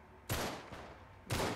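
Two sharp gunshots in Uncharted 3: Drake's Deception, set in the London Underground, crack about a second apart, each with a short decaying tail and no voices.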